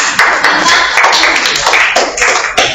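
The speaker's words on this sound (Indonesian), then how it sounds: "Tepuk tangan untuk bintang." A group claps loudly and close by in a quick, uneven stream of sharp hand claps that fills the whole moment. No voices are heard over it.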